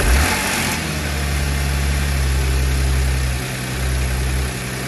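Car engine just after start-up with faulty timing chain tensioners, a loud steady idle with a deep low rumble and a brief rattling burst at the start, no talking over it.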